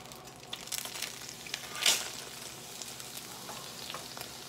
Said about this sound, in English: Now put my salmon in the skillet.